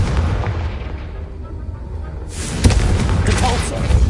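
A Confringo fire spell from Hogwarts Legacy bursts into a loud, close blast with a crackling, roaring tail, following a quieter stretch of rumbling game ambience.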